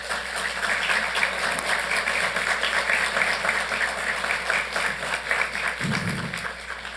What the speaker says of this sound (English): So let's start with a round of applause for them.